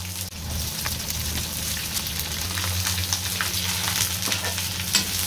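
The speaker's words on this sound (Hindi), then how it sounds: "इनको सबको डाल देंगे और थोड़ा सा भुनने देंगे" Two large sliced onions frying in a pan, a dense close sizzle and crackle with occasional stirring scrapes, steady and loud throughout without speech.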